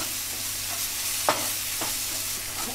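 Ground masala paste frying in a hot kadai for a Malvani clam dish, a dense close sizzle broken by a few scraping stirs.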